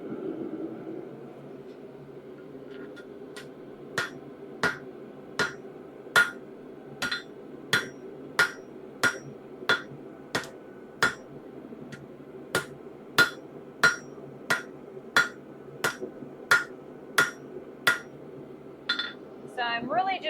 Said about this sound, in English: Let's do another round of forging.